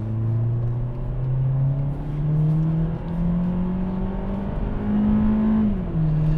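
A 2020 Hyundai Sonata accelerates in sport mode, heard from inside the cabin as a steady engine drone that rises in pitch through the gears, with a brief dip at each shift. No one speaks.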